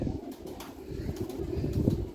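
Lahori flying pigeons coo softly and repeatedly at close range, low throaty calls over a steady background with faint wing flutters.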